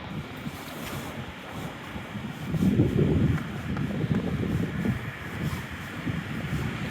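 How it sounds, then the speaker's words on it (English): Gusty wind buffeting the microphone on the Torquay seafront, with waves breaking nearby as a low surging rumble that swells midway, no voices. "It's windy here"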